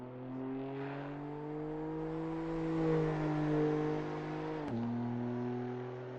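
Car engine in a sim racing game, a steady mid-revving drone that rises slightly and then drops sharply in pitch at a gear shift near the end, close and continuous with no talk.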